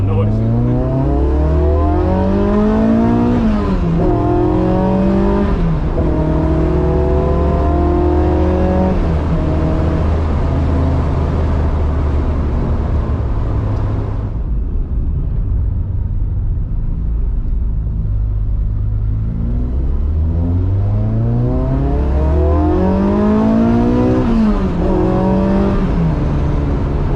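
A Gordon Murray Ford Escort's engine drones loudly while driven, holding a steady throbbing rumble with rising revs that fall back, briefly easing off midway before climbing again.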